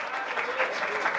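Brief burst of applause from a church congregation during a sermon, a short dense patter of clapping heard alongside a speaking voice.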